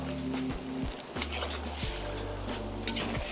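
Garlic and beef stirred in a sizzling kazan for goulash, with a steady frying hiss and repeated scraping strokes of the spoon against the pot, close and moderately loud, no talking.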